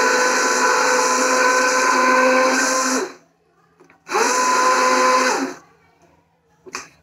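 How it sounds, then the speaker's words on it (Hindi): Electric blender grinding broccoli soup with milk, two loud whirring bursts of about three and one and a half seconds separated by a pause, close and dominant. "मैं ब्लेंडर कुकर खोलते ही चलाती हूँ"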